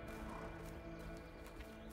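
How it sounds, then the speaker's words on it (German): Soft horse sounds in a quiet barn in the video game A Way Out, faint hoof shuffles and low snorts over a steady ambient hum. "How do you know they got horses in there? It's a horse barn, Leo."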